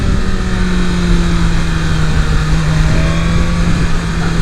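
A 2023 BMW S 1000 RR sport bike ridden on the street, its engine holding a loud, steady drone with a buzzing tone and slight pitch shifts as the quick shifter changes gears.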